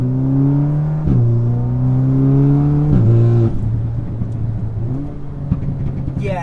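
An Audi accelerates hard on the road, its engine note climbing through the revs with sharp drops at each gear change, then settling into a steadier drone, loud and close from inside the car.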